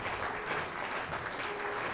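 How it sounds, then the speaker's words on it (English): Continuous audience applause for a traditional ruler arriving at a symposium, a thick even roar of many hands clapping together at steady loudness throughout. "Keep clapping until he comes, please."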